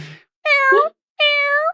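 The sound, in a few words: voice imitating a kitten meowing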